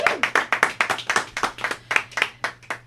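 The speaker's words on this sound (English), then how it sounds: "Let's get a round of applause for Travis." A small studio group claps for a guest on a radio show: a few people beating out sparse, separate claps close to the mic over a low steady hum.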